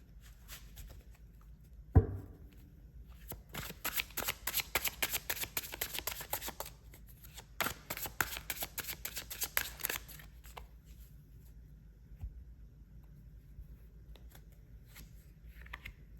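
Tarot cards are shuffled in bursts of dense riffling and soft slapping, starting with a sharp tap near the beginning and then a long busy stretch before the sound tapers to light handling.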